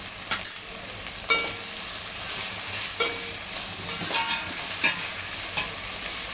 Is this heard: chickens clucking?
no